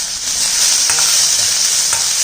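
Onions and bell pepper sizzle loudly in a hot pan as they are stirred, a steady bright hiss with a few faint scraping strokes.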